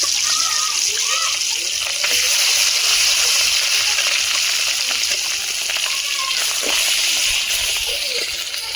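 Fish frying in hot oil, a steady broadband sizzle with crackles and sputters running the whole time, close and loud, with a voice faintly present.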